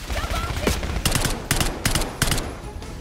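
Gunfire in Call of Duty Black Ops 6 comes as close, loud automatic bursts, several rapid volleys in a row over a dense battle din.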